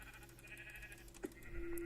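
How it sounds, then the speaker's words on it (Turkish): A sheep bleats once in the video game Minecraft, a short quiet bleat over faint background game music. "Şimdi koyun acil koyun kesmemiz lazım."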